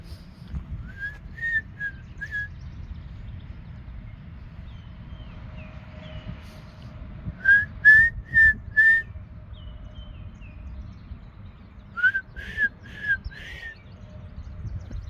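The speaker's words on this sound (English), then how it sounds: "I can only sometimes whistle." A person whistles outdoors in Muskego Park, Waukesha County, giving short repeated melodic phrases in three bursts, clear and fairly close, over a steady low rumble of wind or distant machinery.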